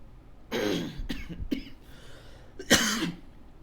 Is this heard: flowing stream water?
no